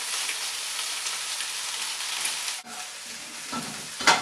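Cooled white long grain rice frying in a small drop of oil for fried rice gives off a steady close hiss and sizzle, broken near the end by a brief clatter of stirring.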